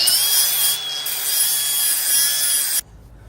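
Abrasive cutting through welded steel bars on a golf cart frame, a harsh sustained rasping screech for nearly three seconds that stops abruptly, leaving quiet room noise.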